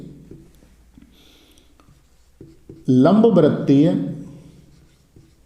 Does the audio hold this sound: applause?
no